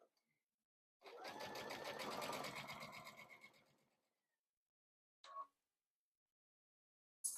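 A domestic sewing machine runs steadily for about three seconds while stitching bulky quilt binding that has a built-in flange, then slows to a stop, with two brief mechanical clicks afterward.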